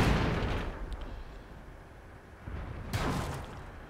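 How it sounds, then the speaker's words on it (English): Incoming artillery fire in World of Tanks, with an American T34 heavy tank in battle: heavy low rumbling blasts and a broadband burst of impact noise near the end, loud against constant game ambience. "Artillery coming in."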